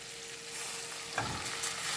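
Dried peppers and eggplant frying in a pan with tomato paste and red pepper flakes, a steady soft sizzle with a brief clatter of stirring midway, fairly quiet and without voices.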